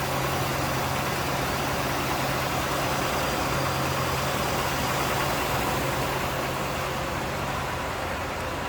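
A 1978 Checker Marathon A11 taxi cab with a GM 150-cubic-inch inline six-cylinder idles with a continuous, even low hum under a broad hiss of background noise, no voices heard.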